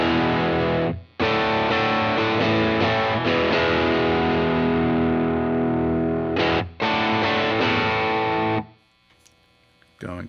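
Electric guitar played through a Lytt Effects First Rule pedal with side A engaged, giving a loud distorted tone in sustained chords that cut off briefly twice before a quiet fade at the end.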